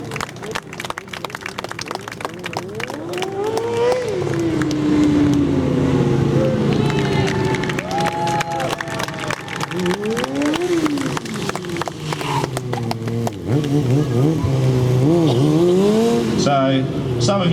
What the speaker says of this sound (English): bouncing it off the rev limiter. Oh, getting a nice bit of smoke there, now whipping it around into a drift.